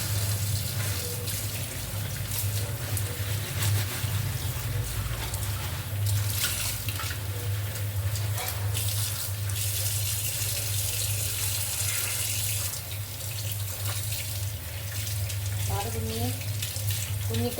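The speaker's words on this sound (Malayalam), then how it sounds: "നമുക്ക് ആദ്യം മീൻ കഴുകി വൃത്തിയാക്കാം." A kitchen tap runs steadily as kadal bral (sea bream) fish is rinsed and cleaned, a constant close splash over a low hum, with occasional clinks and brief voices.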